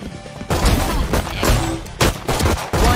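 Gunfire in the video game VALORANT: loud rapid bursts of shots in quick succession, close and punchy, with short gaps between volleys and no talk.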